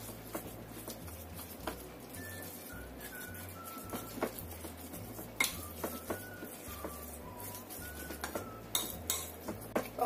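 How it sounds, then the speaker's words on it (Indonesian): A spoon stirs a siomay chicken mixture with oyster sauce in a bowl, producing soft, repeated scraping and clinking taps at close range, with a low steady hum underneath. "Kemudian kita aduk lagi sampai rata."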